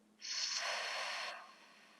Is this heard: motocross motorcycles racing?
no